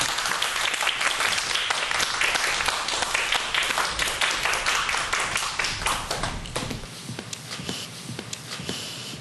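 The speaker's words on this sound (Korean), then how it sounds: "박수 부탁드립니다." An audience at a televised science lecture claps for the professor coming on stage, dense steady applause close and loud for several seconds before thinning out to a few scattered claps.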